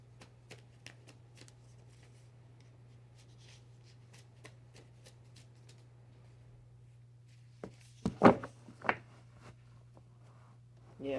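Tarot cards being shuffled and handled, soft riffling and brushing sounds close by over a steady low hum, rising to a louder flurry near the end, with no speech.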